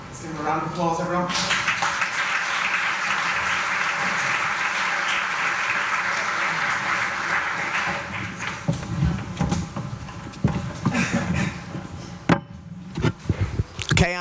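Applause from an audience at a game developers' pitch competition event, loud and sustained for several seconds, then fading into scattered claps, stage noise and voices talking.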